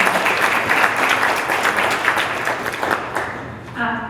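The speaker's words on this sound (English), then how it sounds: "Can we please get a big round of applause for all of us?" A large audience at an economic mobility summit in Louisville applauds in a loud, sustained wash of clapping that tapers off near the end as a voice begins.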